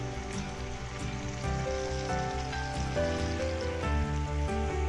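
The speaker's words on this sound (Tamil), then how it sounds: "இது வெங்காயம் நல்லா வதங்கட்டும்" Steady sizzling and crackling of onions frying in a pan, continuous and close, with music playing over it.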